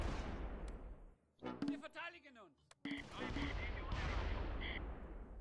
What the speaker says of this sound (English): I kind of want to save the mortars for anti-tank guns, but let's just fire off a few rounds here.